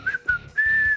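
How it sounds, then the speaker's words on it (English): The magic whistle tune from the video game Super Mario Bros. 3: a short, loud three-note whistled melody, two quick notes followed by a longer held one, heard alone with no talk. "here comes the magic whistle"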